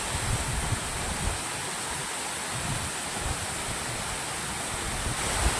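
Dense, steady roar of falling water, loud and unbroken throughout, like standing close to a waterfall.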